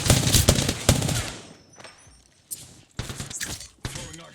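Gunfire in a fast-paced shooter game bursts out loud in rapid cracks for the first second and a half, then returns in shorter bursts amid other game effects and impacts.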